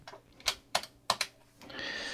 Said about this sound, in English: So we'll put that on there now.